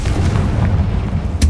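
A Confringo spell blast in Hogwarts Legacy, a brief, loud, low rumbling burst with a sharp crack at the end.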